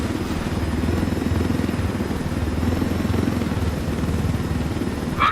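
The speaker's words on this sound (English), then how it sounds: "How in the hell are we all in this chopper together, man?" Helicopter from Ghost Recon Wildlands flying steadily, a continuous low rotor and engine drone held at even loudness throughout, with a brief higher blip near the end.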